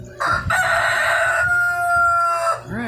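A backyard rooster among fifteen hens in the Lake Havasu City, Arizona heat gives one loud, drawn-out crow, close by, with faint clucking underneath.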